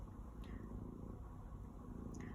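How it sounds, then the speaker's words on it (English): A cat purrs softly and steadily while lying down, a faint continuous low rumble close by with no talking. "Okay, and you can purr."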